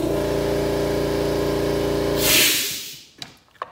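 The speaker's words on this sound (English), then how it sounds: "I have this hooked up to a little pancake compressor." A small pancake air compressor's motor runs steadily with a low hum, then shuts off abruptly, leaving a brief hiss that fades out, followed by a couple of faint clicks.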